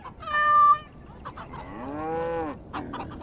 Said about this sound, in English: Little kitty there makes me want to vomit.